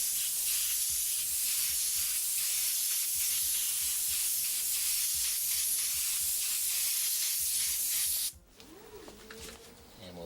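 An airbrush sprays a medium coat of reddish brown paint in one steady, loud hiss lasting about eight seconds, then cuts off abruptly, leaving quieter handling sounds.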